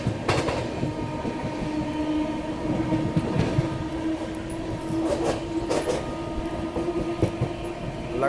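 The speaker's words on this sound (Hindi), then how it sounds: "लगातार हॉन्क करते हुए अपने सफ़र में आगे बढ़ते हुए" A New Delhi–Howrah Rajdhani Express runs through extreme fog with a steady rumble of wheels and rail clatter, a few short horn blasts breaking through over the continuous train noise.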